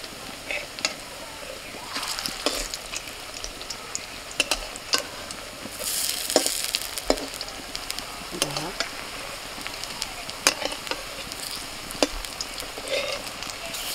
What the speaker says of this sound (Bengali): তেল গরম হয়ে গেছে, বড়াগুলো ভেজে নি।